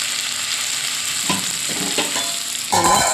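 Cauliflower sizzles in hot oil in a pan, a steady close frying hiss broken by several clattering stirs and scrapes of a utensil.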